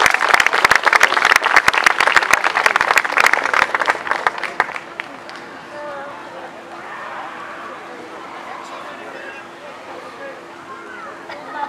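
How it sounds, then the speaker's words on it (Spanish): Loud, crisp applause at a Fiestas Patrias community celebration honoring a pageant contestant, sharp claps for about five seconds before fading into a quieter murmur of the crowd. "Un fuerte aplauso para Selene."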